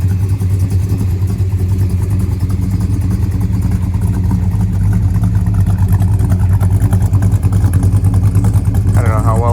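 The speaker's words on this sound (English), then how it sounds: "Well, here she is back home next morning, idling, sounding like a happy Louise." A 1965 Plymouth Satellite V8 idles steadily up close with a deep, continuous rumble, loud and even throughout with no revving.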